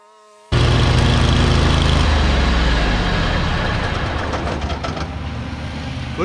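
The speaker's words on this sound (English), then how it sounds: "So I'm gonna do a little bit of mowing, just double check everything is working" A Cub Cadet GTX 2100 riding lawn mower with a newly replaced front drive PTO starts abruptly and runs at a steady, loud, close engine roar while mowing, with a slightly rougher rattle creeping in later and no voices.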